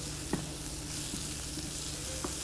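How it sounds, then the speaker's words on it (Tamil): Chopped medium-sized tomato sizzles steadily in a hot pan, a dense continuous frying hiss with a few faint clicks of stirring. "ஒரு மீடியம் சைஸ் தக்காளி சின்ன சின்னதாக கட் பண்ணது ஆட் பண்ணியாச்சு"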